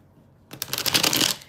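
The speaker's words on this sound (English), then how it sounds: "Let me just shuffle these." Tarot cards shuffled by hand during a live reading, a crisp riffling flutter that starts abruptly after a brief silence and runs steadily for about a second, close and fairly loud with no talking.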